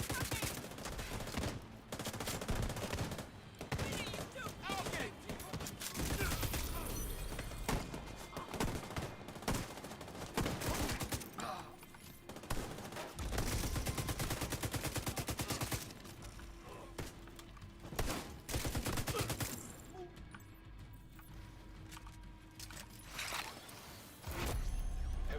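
Dense, sustained gunfire from a video game shooter: rapid automatic bursts and fusillades with whooshes and thuds, loud and nearly continuous throughout, with occasional brief lulls.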